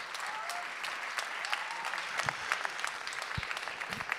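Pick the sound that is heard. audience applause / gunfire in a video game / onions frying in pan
audience applause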